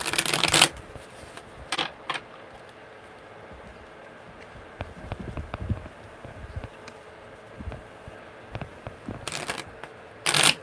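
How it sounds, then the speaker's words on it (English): Tarot cards being shuffled up close, a steady riffling rustle with a few sharper snaps and thumps at the start and end. "one more good shuffle because that one sucked"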